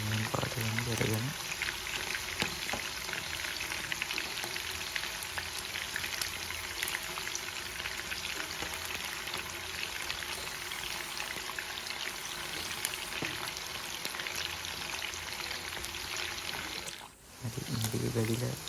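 Chicken pieces fry in a pan with a steady, dense sizzle and crackle that runs nearly unbroken for the whole stretch, dropping out briefly near the end before resuming, and a voice speaks quietly over it.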